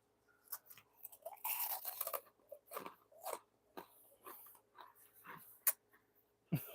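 Freeze-dried peach rings crunched and bitten up close, a series of crisp, uneven crackling bites and chews with short pauses between them, no talking.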